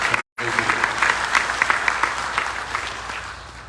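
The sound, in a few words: audience applause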